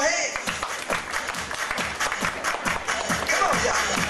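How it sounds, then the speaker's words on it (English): A crowd at a hotel dance in Alcudia claps along in rhythm, sharp repeated hand claps over loud music with voices mixed in. "clap your hands."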